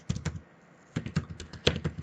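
Fingers typing text on a computer keyboard, two quick bursts of close, crisp key clicks separated by a short pause, quiet and alone.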